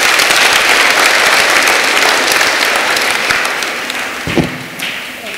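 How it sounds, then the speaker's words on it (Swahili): A congregation at a Catholic parish church applauds loudly and steadily, the clapping sustained for several seconds before gradually thinning and fading. "Wapigeni makofi."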